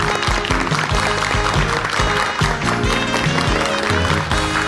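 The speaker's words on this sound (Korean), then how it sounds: "큰 박수로 환영해 주시면" Studio audience on a Korean morning talk show clapping to welcome a guest, dense applause laid over a loud, bright musical jingle with a steady beat.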